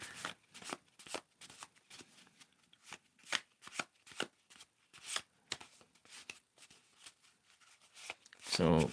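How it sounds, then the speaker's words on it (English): Answer cards shuffled by hand in a steady series of crisp riffling bursts, close and soft, with a louder rustle at the end. "do some shuffling here."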